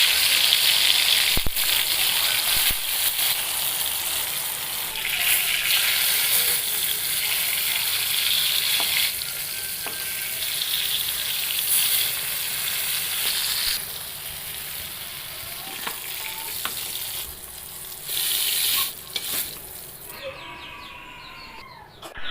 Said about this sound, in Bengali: তারপরে একটা একটা করে সব বেগুনগুলো কড়াইয়ের মধ্যে দিয়ে দিলাম